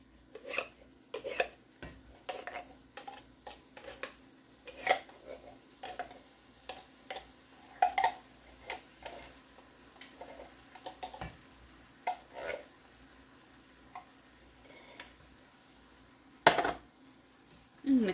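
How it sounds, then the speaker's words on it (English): Cream soup being stirred into a tater tot and hot dog casserole in a Dutch oven, with repeated scraping clinks of a spoon against the pot and occasional louder knocks, over a faint sizzle. "Mix that up."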